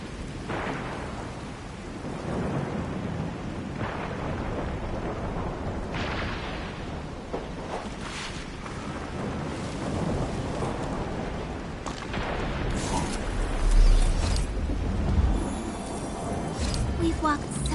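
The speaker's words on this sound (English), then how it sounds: "It's raining harder. I can't hear anything except for the rain." Steady, heavy rainfall in the video game Arknights: Endfield roars throughout with occasional low rumbles, a dense wash of noise that never lets up.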